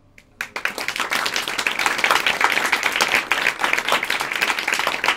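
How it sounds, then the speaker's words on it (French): A comedy show audience breaks into loud, sustained clapping that starts abruptly and keeps a busy, crackling rhythm throughout. "on se libère les bras et applaudissez pour voir"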